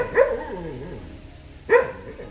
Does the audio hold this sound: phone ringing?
no